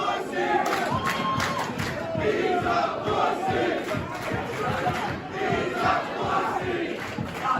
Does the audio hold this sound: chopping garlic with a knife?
no